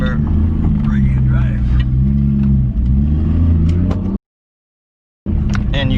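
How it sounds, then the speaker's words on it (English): A right-hand drive car's engine runs loudly and steadily with some revving under talk, then cuts out for about a second before returning. "It's not the quietest, but it's also not the loudest car I've had"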